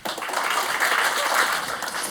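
Audience applause at a Ukrainian stand-up comedy show, a dense, sustained wash of many hands clapping at full volume from start to finish.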